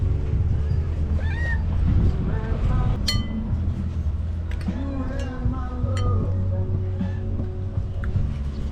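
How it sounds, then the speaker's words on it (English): A hungry cat meows a few times in a busy outdoor café setting in the town of Jermuk, the cries partly masked by steady background noise, clinking dishes and nearby talk. "some hungry cat somewhere"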